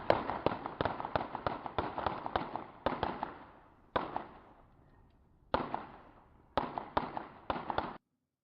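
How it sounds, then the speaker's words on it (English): Recorded gunshots picked up by an acoustic gunfire sensor in Chicago: a rapid string of sharp cracks, then a pause and further isolated and clustered shots, each decaying with a short echo, loud and with no voices. "19 shots fired here."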